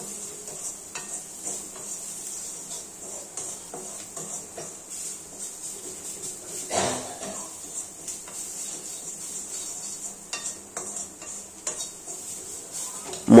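A spoon stirs salt and turmeric through a pan for a Bengali dal and pointed gourd curry, making repeated scraping and clinking against the metal over a soft background sizzle, with one louder knock midway.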